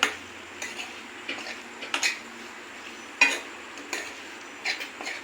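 Fried soybean chunks for Manchurian being stirred in a pan, with a spoon scraping and clinking against the metal in scattered light taps and swishes, close and fairly quiet, no voices.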